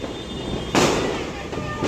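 Diwali fireworks from a 30-shot cake go off outdoors in heavy rain, sharp broadband bursts cracking over a steady wash of noise while people talk nearby.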